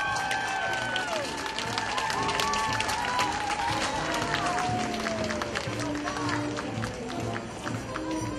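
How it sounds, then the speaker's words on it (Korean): A crowd applauds a high school marching band at a Korean parade outdoors in hot weather. The clapping is sustained and moderate, with scattered cheers, whistles and background crowd noise. "환영해 격려의 박수 부탁합니다."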